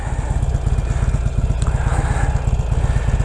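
A motorcycle engine runs close by with a rapid, regular low-pitched thumping pulse, steady and fairly loud throughout, with no voices.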